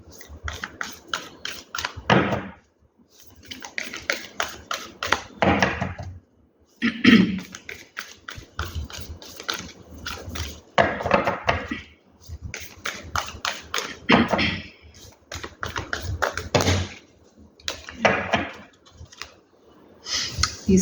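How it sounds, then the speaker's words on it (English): Tarot cards being shuffled by hand in repeated bursts of riffling and soft clattering, each run lasting a few seconds with short pauses between, close and fairly loud with no talking. "These cards are a little bit different, so let's keep shuffling."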